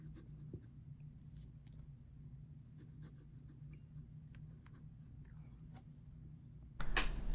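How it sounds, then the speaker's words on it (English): A Pilot Explorer fountain pen with a medium nib scratches across paper in soft, steady strokes and small ticks, faint and close, over a low constant hum, ending with a louder rustle. "I'm just finishing off this writing sample on the Pilot Explorer"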